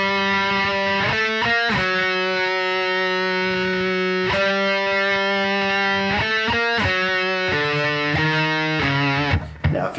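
Distorted electric guitar plays a thrash metal melody line with rapid tremolo picking, sustained notes shifting in pitch every second or so, loud and continuous with no talking, ending in a brief noisy scrape.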